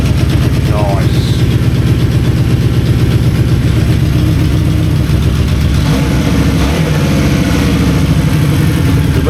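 A Honda CD200 motorcycle engine idling steadily and close, a loud even rattling hum with a brief blip of revs partway through that settles back quickly.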